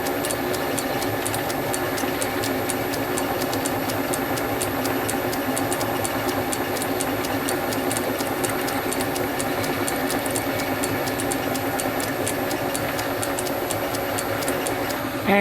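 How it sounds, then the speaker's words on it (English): A small 1/8 inch reamer is run through a brass clock part, giving a steady, continuous mechanical whirr with a fine rapid ticking texture, even in loudness throughout and with no talk. "we're going to run a 1/8 reamer right through."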